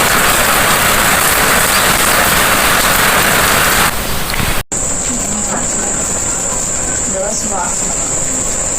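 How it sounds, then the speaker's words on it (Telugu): Heavy rain falling outside, a loud, dense steady wash that drops abruptly after a brief cut to a quieter, more distant patter with a faint high tone and a few small sounds. "బయట అయితే వర్షం అయితే వస్తుంది కరెక్ట్గా పన్నెండు గంటల నుంచి స్టార్టింగ్ అయింది పడతానే ఉంది"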